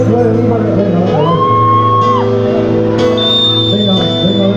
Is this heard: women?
yes